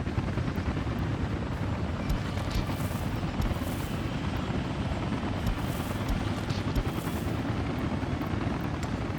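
Helicopters in the city-building game Soviet Republic: a steady, loud rotor drone with whooshing wash, continuous throughout with no voices.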